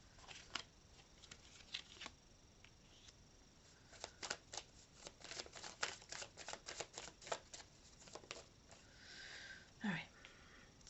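Tarot cards being shuffled and drawn, quiet crisp riffles and flicks in clustered bursts, close and soft, with a little talking in between.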